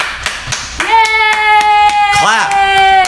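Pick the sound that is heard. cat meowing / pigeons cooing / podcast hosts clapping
podcast hosts clapping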